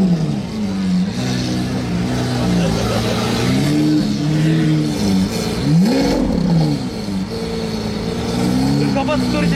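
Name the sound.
Lamborghini Aventador engine revving on the road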